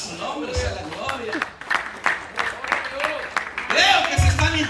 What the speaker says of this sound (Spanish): denle un aplauso al Señor, a su nombre sea la gloria